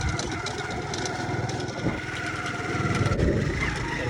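A motorcycle engine runs at a steady, low, chugging idle, moderately loud and continuous without clear revs.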